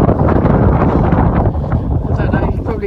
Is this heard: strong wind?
yes